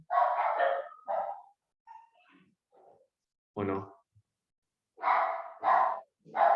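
Several dog barks come in short bursts with pauses between them, fairly close, and a brief spoken remark is in among them.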